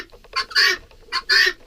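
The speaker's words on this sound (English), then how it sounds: "you see the guineas just love to talk" Guinea fowl calling on a farm, two loud bursts of harsh, rapid chattering cries close by, each short run of chirps building into a rasping squawk, with no voices over them.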